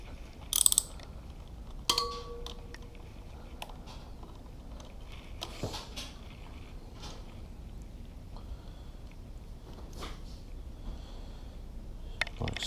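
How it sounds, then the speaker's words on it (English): A ratchet loosens the pinch bolts on a Suzuki DR650 motorcycle, giving sparse metallic clicks and clanks over a quiet garage background, with a couple of sharper hits near the start. "So we loosen the pinch bolts."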